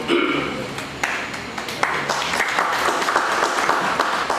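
Applause rings out at a retirement function, a dense burst of many hands clapping that stays loud throughout, with sharp individual claps poking through the crowd sound.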